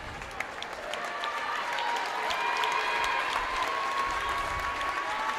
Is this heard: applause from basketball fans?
yes